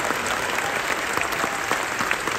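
An indoor audience at a gospel concert claps for servicemen and women, a steady, dense wash of applause that holds at an even level throughout, with no voices over it.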